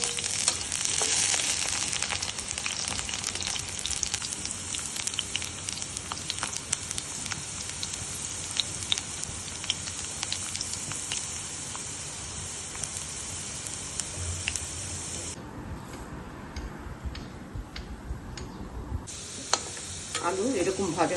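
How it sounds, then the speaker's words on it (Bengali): Potato pieces frying in a pan of hot oil for an egg curry, a continuous bright sizzle and crackle close by with occasional stirring scrapes, steady throughout without any talking. "আলু তো আমরা বেশি ভাজতে পারি।"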